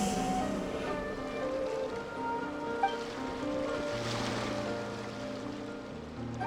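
Ocean waves in Genshin Impact: a soft, steady surf wash beneath sustained music tones, with a gentle swell midway and a faint, continuous ambient bed.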